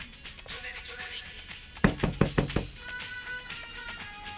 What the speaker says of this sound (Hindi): जिया जिया दरवाजा खोलो वरना तोड़ देंगे हम